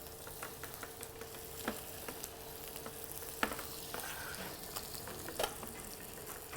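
Pike perch fries in a hot pan as mountain butter is added, giving a soft, continuous sizzle with small crackles and occasional light ticks of utensils.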